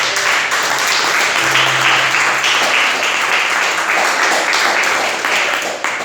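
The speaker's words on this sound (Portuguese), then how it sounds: "Assenta, desocupa as tuas mãos e aplauda os céus bem forte." A church congregation applauds loudly and steadily for several seconds, a dense, continuous wash of clapping with some voices faintly underneath.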